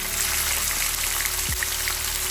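Brinjal (eggplant) slices fry in hot oil with a steady, dense sizzle and crackle, close and continuous with no voices.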